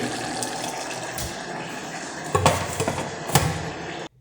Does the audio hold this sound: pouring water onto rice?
yes